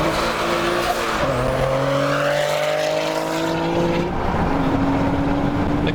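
A blue twin-turbo Nissan 370Z drives through the streets of Gainesville, Florida. The engine note climbs through the gears in rising and falling tones over loud, steady road and exhaust noise, with no talking.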